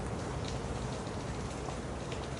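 Rain falls steadily as an even, dense hiss of drops. It is quiet and constant for the whole short stretch.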